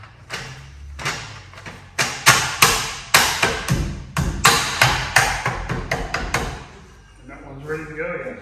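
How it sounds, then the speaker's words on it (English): A plastic wheel trim is struck repeatedly onto the rear wheel of a Vauxhall Corsa C, a rapid series of loud, sharp knocking blows close by, followed by a brief voice. "So the last thing to do is whack your wheel trim on."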